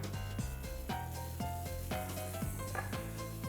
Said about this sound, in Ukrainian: І поки смажаться шкварки